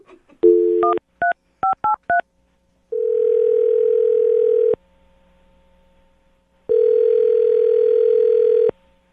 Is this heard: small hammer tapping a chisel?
no